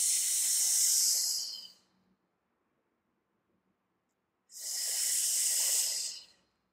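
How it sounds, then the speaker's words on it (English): Two long, loud breaths in and out through the mouth during a Pilates workout with weights and ball, each lasting about two seconds and separated by a silent pause, with no talking. "This is your breathing pattern if you want to follow that."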